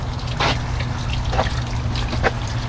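Water trickles steadily through a pet-friendly garden water feature, a continuous close splashing flow over a low droning hum, with a few slightly louder splashes.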